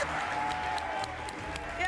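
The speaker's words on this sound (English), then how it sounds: "clap her up, clap her up" Brief, scattered applause from a crowd, moderately loud and continuous for a couple of seconds.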